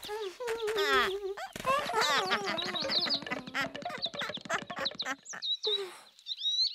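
Sparrows in a children's storybook land nearby and chirp, a run of quick bright tweets and calls standing alone and fairly close, with a narrator's voice around them.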